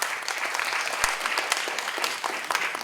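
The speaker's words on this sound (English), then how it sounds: "Give a big applause to her." An audience gives a round of applause for a guest at an evening talk event, many hands clapping in a busy continuous patter with a few sharper claps standing out.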